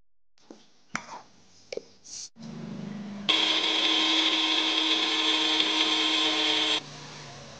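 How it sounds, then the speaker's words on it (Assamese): A mixer grinder blending small chopped pieces of lemon peel roars steadily for several seconds after a few clicks and knocks of setup, then stops abruptly, leaving a quieter hum. "নেমুৰ বাকলিখিনি মিক্সিত মাৰা হৈ গ'ল।"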